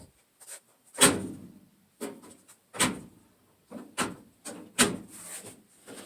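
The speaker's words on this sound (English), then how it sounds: "The door is very hard to shut" A GE top-load dryer door is pushed hard to shut, giving a series of knocking thuds and rubbing clunks, about six firm impacts spread unevenly, close and without talk.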